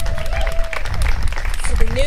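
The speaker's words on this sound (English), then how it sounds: "give Ivana MVP a big round of applause." Brief outdoor applause from a gathered crowd at the launch of a park fitness court, scattered clapping under a speaker's voice amid open-air background noise.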